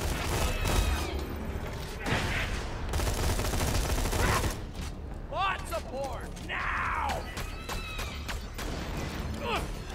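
Borderlands 2 gunfire rattles in rapid bursts and volleys as an enemy is shot, mixed with game effects and chirping sounds, with someone talking over much of it.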